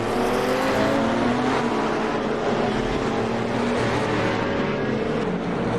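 Race car engines roar steadily at high RPM during a GT race at Imola in Assetto Corsa, with sustained layered engine drones as several cars battle closely, loud and continuous with no talk.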